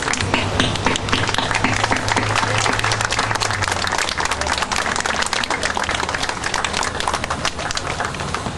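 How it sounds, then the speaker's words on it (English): An audience gives a long, loud, sustained ovation to former Cuban political prisoners at a memorial gathering, dense clapping filling the whole stretch without pause. "I would ask them to stand up and please applaud them as they are the true heroes"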